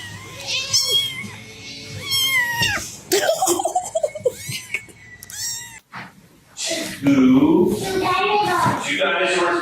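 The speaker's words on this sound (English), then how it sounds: "The scary tabby T-Rex cat." A tabby cat meows repeatedly in a series of drawn-out, rising and falling calls, close and fairly loud, with a voice and other speech mixed in between.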